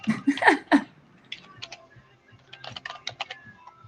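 Someone types on a computer keyboard in a radio studio, producing short bursts of quick, close clicking keystrokes with brief pauses between runs, alongside a few soft vocal sounds.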